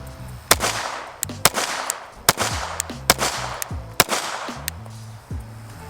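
Five sharp, loud pistol shots from a SIG P365 Macro fired outdoors at a range, spaced roughly a second apart, each crack followed by a brief ringing echo.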